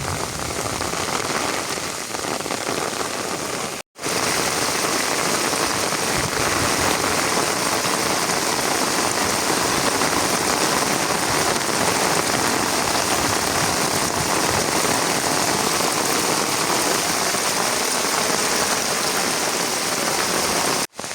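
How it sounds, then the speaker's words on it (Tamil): Heavy rain pours down steadily during a flood in the Atchuveli area of Jaffna, a dense, loud, unbroken roar of drops on surfaces with one brief cutout. "அந்த மழை பெய்கிறதுக்குள்ள பெஞ்சு கொண்டிருக்கு கடை மலையாக பெஞ்சு கொண்டிருக்குது"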